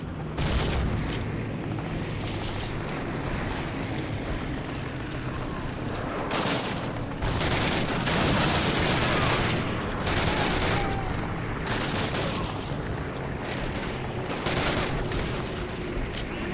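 Call of Duty game combat: a grenade blast followed by bursts of rapid gunfire and booming impacts, loud and dense throughout, with a few sharp crackling peaks.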